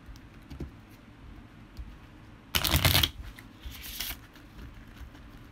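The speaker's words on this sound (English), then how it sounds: "Let's start off with shuffling this deck." A deck of playing cards is riffle-shuffled once in a loud, dense burst of rapid flutter, followed by a softer shorter riffle, over a quiet room.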